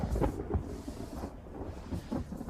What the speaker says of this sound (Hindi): अरे ये तो बारिश होने लगी।